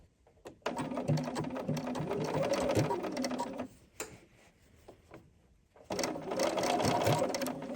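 A sewing machine tying a knot stitch during blind hemming runs in two bursts of rapid mechanical ticking and whirring, with a brief quieter pause between them.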